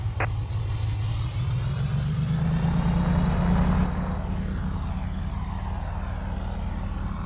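An aircraft's engine roars steadily in Microsoft Flight Simulator during a night takeoff from runway 30 left, the pitch climbing as the plane speeds up, then settling into a constant hum, loud and close without speech.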